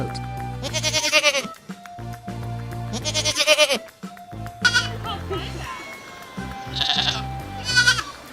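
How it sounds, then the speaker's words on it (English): Goat bleating in several loud, wavering calls, each lasting under a second and separated by short gaps, set over a steady background melody. "Goat."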